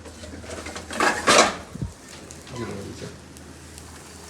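Dishes and utensils clatter in a home kitchen as cooked food is served onto a plate, a few sharp metallic clinks and scrapes in a cluster, with people talking around them.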